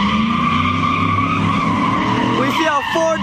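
A four-door truck does a burnout at a crowded car meet, its tires skidding and squealing in a loud, continuous screech over engine roar, with crowd voices mixed in.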